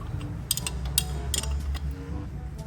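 A special tool being tightened onto a front wheel bearing with ABS, sharp ratcheting clicks in small bursts over a low mechanical hum.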